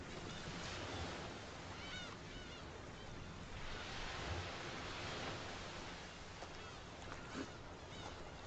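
Wind and surf at a beach: a steady broadband roar of waves and gusting air, fairly loud and continuous, with no voices.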